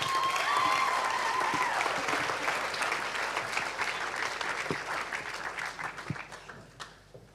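A church congregation applauds steadily for several seconds, a dense, close round of clapping that thins and fades toward the end.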